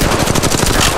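Rapid automatic gunfire in the Apex Legends Mobile shooter game, a loud continuous burst of closely spaced shots filling the whole moment.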